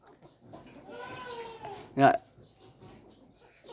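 A baby goat gives one short, loud bleat near the middle, preceded by a longer wavering animal call or voice, with quiet farmyard background and faint talk.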